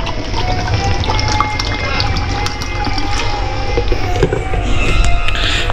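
Water pours and splashes steadily in a rushing, gushing stream that stays fairly loud and continuous throughout, with no talking over it.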